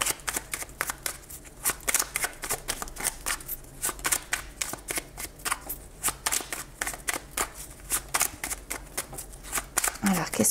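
Fairy oracle cards being shuffled in the hands, a rapid series of crisp riffling slaps repeating throughout, close and fairly loud, with a voice talking underneath.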